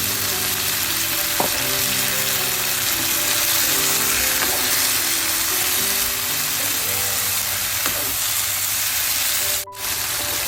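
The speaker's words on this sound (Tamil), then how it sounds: "இப்போ தக்காளியும் கறிமிளகாயும் வதங்கி கொண்டு வந்துட்டுது அதோட இந்த அவிச்ச கடலையே சேர்க்க போகிறேன்" Boiled chickpeas tumble into a pan of sizzling tomatoes and green chilies, a loud steady frying roar with a few knocks and a brief break near the end.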